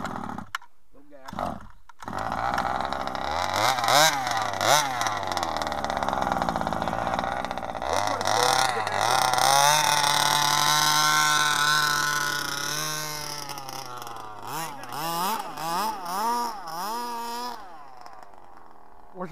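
A ported 27cc engine on a small vehicle with scooper tires revs hard in snow, its loud buzzing whine rising and falling through repeated throttle bursts with a few brief pauses, while voices talk over it.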